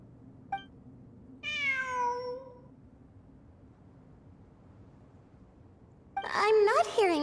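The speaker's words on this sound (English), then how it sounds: "It really is a cat." Cat meowing in the video game Genshin Impact: a short faint call, then one clear drawn-out meow, and a louder burst of cries at the end over a quiet low background hum.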